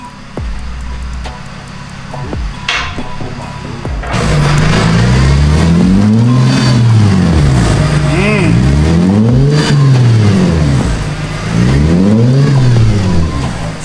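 A Mercedes SLK 350 fitted with a loud half-pipe exhaust in a Hong Kong garage: a low idle, then repeated deep revs that rise and fall in waves, loud and close, with no talk over them.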